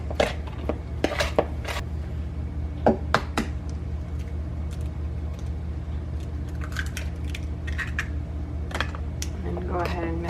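An egg is mixed into apple cinnamon bread batter, producing quick rapid clicking and tapping of a utensil against a bowl in short bursts over a steady background hum, close and fairly quiet.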